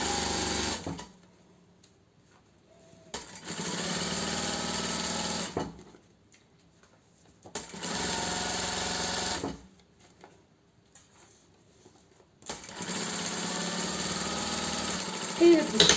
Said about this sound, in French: donc sous la machine à coudre, on se place.